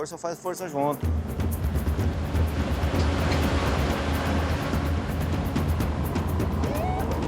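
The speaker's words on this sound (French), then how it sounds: "Le bruit des moteurs couvre à nouveau le chant des oiseaux, comme celui des pelleteuses" Heavy truck engines roar and rumble continuously outdoors in a Brazilian forest, loud and close, after a brief moment of talk at the start.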